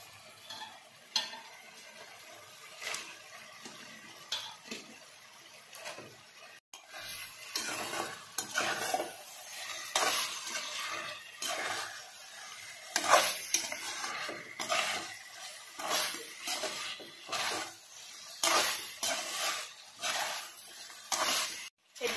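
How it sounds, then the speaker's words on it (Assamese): Duck meat frying in oil over a high gas flame, a dense, crackling sizzle with constant stirring and scraping of a spoon against the pot, loud and close throughout. "এইখিনি মাংসখিনি হাই ফ্লেমতে ভাজি থাকিব লাগিব"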